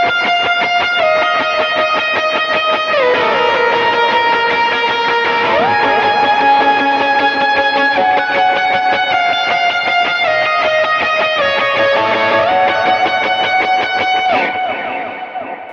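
An electric guitar plays a sustained lead line of a worship song, drenched in reverb, delay and overdrive. The notes glide and overlap in a continuous, loud wash with no talking.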